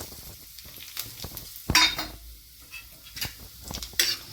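Whole spices (bay leaf, cinnamon, cardamom, peppercorns) dropped into hot oil, crackling and sizzling in short bursts with a few sharp utensil clinks against the pan.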